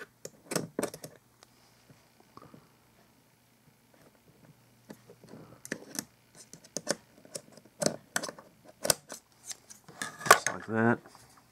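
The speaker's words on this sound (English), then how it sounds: "I do take the pair of scissors and I just like to cut them all the way basically" Scissors trim cotton wicks flush on a Taifun GT2 RTA clone atomizer: close, crisp metallic snips and clicks in scattered bursts, quiet at first and growing into a denser, louder run of cuts near the end.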